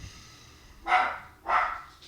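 Two separate, moderately loud dog barks come about half a second apart against a quiet background, with no talking.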